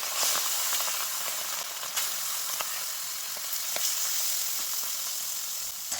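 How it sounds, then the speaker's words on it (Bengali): Pieces of hilsa fish fry in white oil in a wok, giving a steady, close sizzle and hiss with scattered small crackles throughout and no speech. "মাছটা বেশি ভাজবে না হালকা এপিট ওপিট করে নেব"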